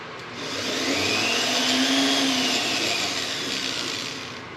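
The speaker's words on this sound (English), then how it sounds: "take it over to the buffing wheel and give it a good final buffing" A buffing wheel polishes a pair of Tigers MLB baseball bat rings, giving a steady, loud whirring hum that rises and holds, then eases slightly near the end, with no talking.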